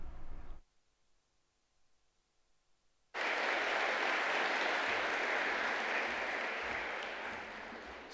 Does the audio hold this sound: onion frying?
no